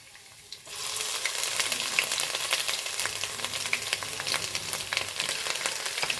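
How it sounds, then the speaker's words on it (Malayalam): Garlic and ginger dropped into hot coconut oil in a pan for chicken roast, a sudden steady loud sizzle and crackle close by after a brief quiet moment, with no talk. "ഇനി ഞാൻ അതിലേക്ക് കുറച്ച് വെളുത്തുള്ളി ഇട്ട് കൊടുക്കുന്നുണ്ട്. പിന്നെ കുറച്ച് ഇഞ്ചി,"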